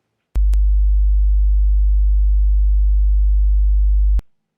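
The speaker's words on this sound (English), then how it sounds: "So here's 50 Hz," A pure 50 Hz sine test tone, a steady deep hum that starts abruptly, holds evenly for nearly four seconds and cuts off, played alone without other sound.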